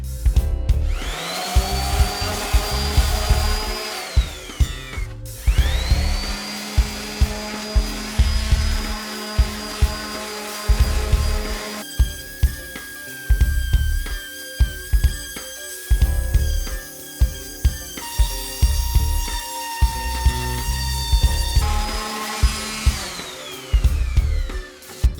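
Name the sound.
power sanding a wooden chair seat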